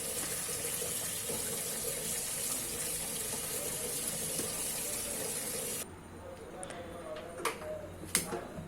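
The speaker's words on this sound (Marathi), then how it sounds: "भाजी छान चिरून घेतली आणि स्वच्छ पाण्याने धुवून घेतली" Chopped taro (alu) leaves being washed under running water, a steady gush from a tap for several seconds, then stopping into quieter splashes and clinks of handling.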